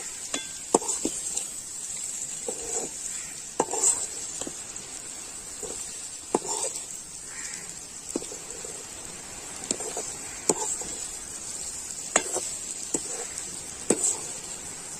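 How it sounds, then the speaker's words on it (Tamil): Egg bhurji is stirred gently in a pan over a thin, steady frying hiss, with light spatula taps and scrapes recurring every second or so, close by and without speech. "நல்லா மெதுவாக கிண்டி விடுங்க."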